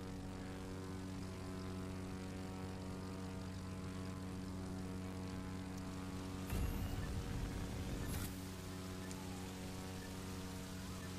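Propeller airplane flying low in the video game The Crew 2, a constant droning engine hum throughout with a brief rushing burst of noise midway and no talk.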